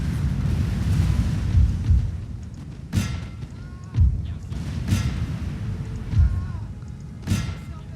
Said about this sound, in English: I'm just exchanging volley fire now with the French fusiliers and some more fusiliers